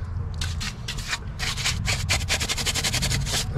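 A wire brush scrubs rust off a Challenger Scat Pack wheel rim in quick, rhythmic bursts of harsh scratching, close and loud, with short pauses between strokes.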